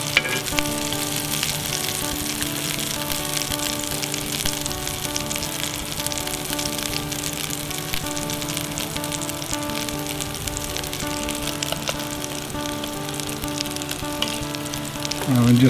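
Pork tenderloin and mashed potato cakes fry in a pan with a steady, close sizzle and crackle that holds evenly for about sixteen seconds, with no talking.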